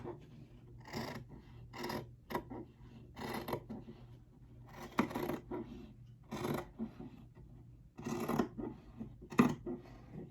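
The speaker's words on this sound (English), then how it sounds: "Now, what you will need with the rest of the shirt, cut about, I'll say about 2 inches off." Scissors cutting through a shirt, a series of crisp snipping and rasping strokes in irregular bursts with short pauses between them, close and fairly quiet.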